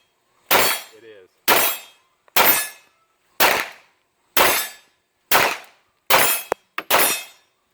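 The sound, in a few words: SIG M17 pistol gunshots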